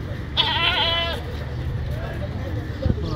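Goats bleat at a busy Lahore livestock market, one loud wavering bleat up close followed by fainter calls, with people talking in the background throughout.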